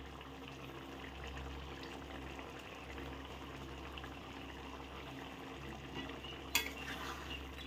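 Curry of jackfruit with garam masala and kasuri methi being stirred in a pan, a low steady bubbling simmer with soft scraping and one sharp clink of a utensil near the end.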